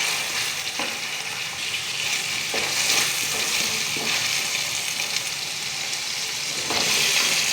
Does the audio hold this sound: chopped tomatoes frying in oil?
yes